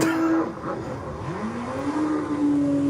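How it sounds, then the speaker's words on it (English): A jet ski powered by a Suzuki 1300cc engine accelerates hard, its rising engine whine sweeping upward and holding a loud, sustained pitch nearby with no talk. "There is no doubt that is a 1300cc engine provided by Suzuki."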